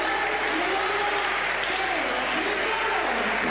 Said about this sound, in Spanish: lo tienen recogiendo los aplausos del público